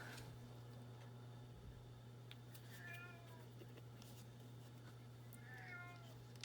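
A house cat meows faintly a few times from somewhere in a quiet room, with short wavering calls over a low steady hum.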